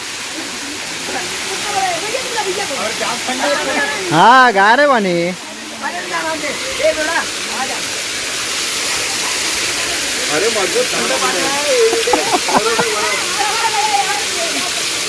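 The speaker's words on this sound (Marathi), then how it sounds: "जबरदस्त असा धबधबा आहे हे पाणी असं खालती जातं" A waterfall roars steadily and close throughout, water plunging downward in a dense wash of rushing water, with people talking over it.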